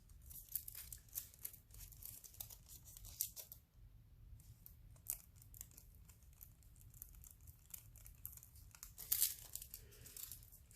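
Thin metal foil crinkles as it is pressed onto a painted rock, giving faint, close, scattered rustles and crackles over a low background hum.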